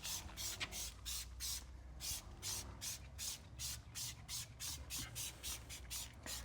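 A trigger foam sprayer coats a car wheel with wheel cleaner in a fast, even series of short hissing spray bursts, about two per second, close and steady throughout.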